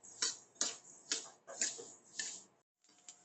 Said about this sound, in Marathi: छान तडतड करायला लागली ती काढून घ्यायची.